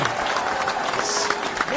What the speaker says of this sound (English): Y'all clap it up again. Clap it up. Clap it up.